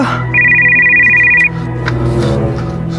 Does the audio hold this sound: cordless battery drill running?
no